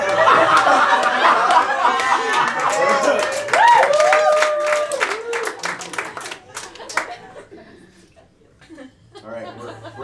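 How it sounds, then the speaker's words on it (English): A comedy club crowd breaks into clapping with chuckles and laughter, scattered sharp hand claps over a noisy room, with voices talking and laughing throughout before the clapping thins out. "That's the second applause break of the show."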